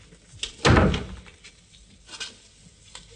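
A car door is shut once during a vehicle inspection, a single solid thud followed by faint rattles and quiet background noise, with no talking.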